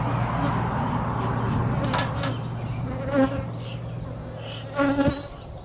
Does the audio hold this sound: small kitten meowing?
no